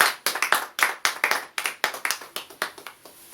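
A church congregation claps in acclaim, loud sharp claps in quick irregular bursts, close and dry, with no voices over them.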